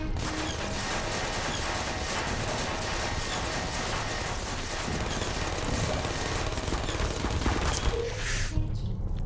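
Rapid turret gunfire from the video game Portal, a dense, continuous burst of loud shots and metallic clatter that fills the whole stretch and cuts off abruptly near the end.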